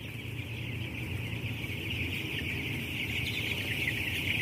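Broiler chickens in a closed poultry house, a dense continuous chorus of many birds clucking and peeping at once, steady and fairly loud, mixed with the low hum of ventilation fans.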